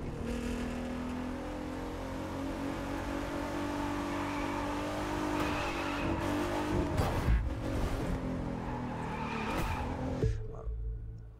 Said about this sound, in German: Mit dem Auto können wir gut driften.